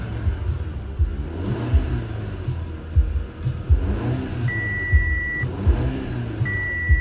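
Close engine of a 2011 Audi A5 2.0-liter turbo, all-wheel drive automatic, idling and revving in several quick rising bursts, with short electronic beeps near the end.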